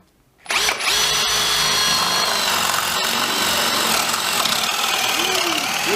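A Hitachi DV18DBFL2 cordless drill bores into wood with a Forstner bit, starting abruptly and holding a loud, steady, close whine with grinding texture throughout.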